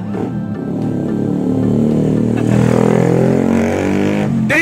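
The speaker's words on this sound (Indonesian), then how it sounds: "Berisik di pinggir jalan guys." Roadside traffic with motorcycles passing close by, a steady loud engine drone that swells midway and holds to the end, with no talk over it.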